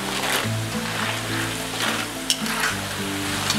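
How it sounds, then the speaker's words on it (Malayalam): Banana chip slices fry in hot oil with salted water added, giving a continuous crisp sizzle and bubbling hiss with occasional sharper crackles, close and steady. "ഏകദേശം മൂക്കാറാവുമ്പോൾ ഒരു ക്രിസ്പി സൗണ്ട് കേൾക്കാം."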